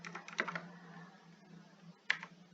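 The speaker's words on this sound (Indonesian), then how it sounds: "Lalu kita ketikkan perintah copy" Brief bursts of keystrokes on a computer keyboard entering a Linux Ubuntu command, a quick cluster of clicks at the start, a pause, then another sharp tap, close and fairly quiet.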